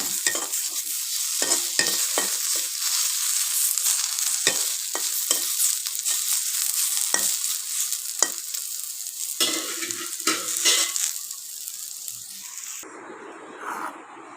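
Ingredients for a bhorta fry in mustard oil with a constant close sizzle, punctuated by frequent scraping stirs and knocks of a spoon against the pan; the sound thins out briefly at the very end.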